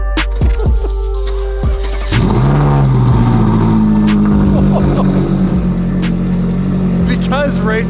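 A McLaren 600LT supercar engine rises from idle into a sharp rev, climbs in pitch, then settles into a loud sustained roar with further blips. Voices talk over it near the start.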